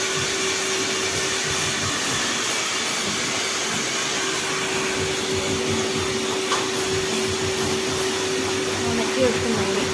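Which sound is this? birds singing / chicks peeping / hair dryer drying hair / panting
hair dryer drying hair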